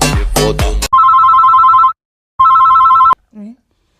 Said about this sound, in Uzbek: Otam degan telefon qilib ko'tarayqani?